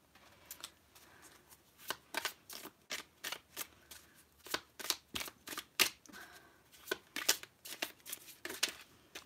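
Tarot and oracle cards shuffled by hand up close, a long run of evenly spaced crisp slapping bursts, roughly two per second, quiet and with no talk.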